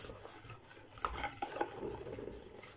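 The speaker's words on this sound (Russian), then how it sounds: "И замешиваем тесто." Yeast dough for pirozhki is mixed in a bowl with a utensil, giving soft close stirring and scraping with a few light clinks against the bowl.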